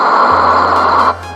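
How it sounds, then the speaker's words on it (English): Forest nature ambience plays as a dense, steady hiss. A low hum enters early on, and the brighter texture thins out near the end, with no voices. "and this is the sound of a forest."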